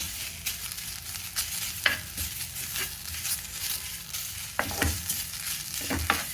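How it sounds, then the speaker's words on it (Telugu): Dried drumstick leaves dry-roasting in a pan without oil rustle and scrape steadily, with repeated sharp spatula strokes and crackles at an irregular pace, close and fairly loud, no voices. "ఆరబెట్టుకున్న మునగాకుని ఇలా పాన్లో వేసుకొని రోస్ట్ చేసుకోవాలండి."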